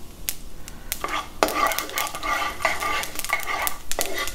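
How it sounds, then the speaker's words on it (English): Mustard and cumin seeds crackle and pop in a hot pan, sharp scattered snaps and bursts of spluttering over a steady sizzle, close and moderately loud, with no voices. "Mustard seeds and cumin seeds. And we let this splutter for a few minutes."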